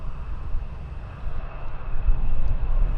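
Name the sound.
United airliner taking off at Schiphol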